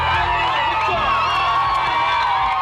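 A dense crowd near a marathon finish line cheers, whoops and shouts continuously, loud and close, with a voice heard over the noise.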